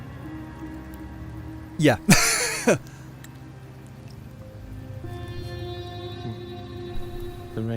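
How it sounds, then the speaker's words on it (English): Rain falls steadily in the video game Wuthering Waves, a soft continuous patter beneath in-game music and a person's speech, with a few brief louder bursts near the start. "The rains in Septimont never seem eager to leave this season."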